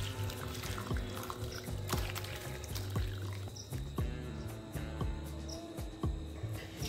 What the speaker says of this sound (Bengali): এর উপরেই ছানাটাকে আমি ঢেলে নিচ্ছি